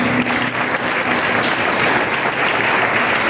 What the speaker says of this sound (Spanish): den un fuerte aplauso a mi compadre